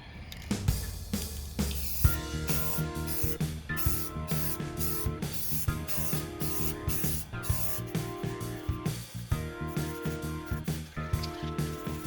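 Spray paint going onto parts of a 1947 CWC Roadmaster bicycle during restoration, a series of close, loud aerosol bursts with short pauses and a repeated rattling rhythm, no talking.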